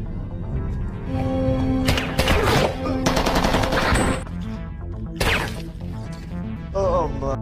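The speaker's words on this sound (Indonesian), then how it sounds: "langsung menembak mati Blanco" Gunshots in a violent film scene with a SWAT team, fired as a few sharp, loud bursts and rapid cracks over music and ambience, with speech interleaved between the shots.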